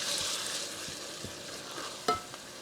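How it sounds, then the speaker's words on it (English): A spoon stirs diced tomatoes in a hot pan on the stove, soft scraping strokes over a steady close sizzle, with one sharper clink near the end. "I'm going to stir this around."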